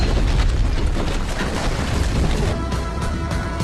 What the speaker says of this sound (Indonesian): menyalakan bom yang dilempar di depan pintu hingga meledak